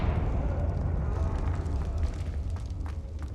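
A Confringo blasting spell in Hogwarts Legacy erupts into a sustained roaring, crackling explosion that rumbles heavily and steadily for a few seconds.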